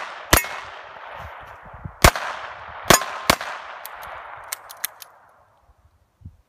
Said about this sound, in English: shooting my cute little new gun.